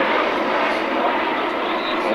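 A high-wing monoplane aircraft flies past at the Fairford airshow, its engine a steady, broad roar held at an even level throughout, with no talk over it.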